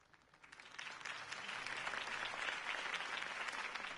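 A crowd in the video game Batman: The Telltale Series applauds a campaign speech, building from a soft start into a steady, dense wash of clapping that holds to the end.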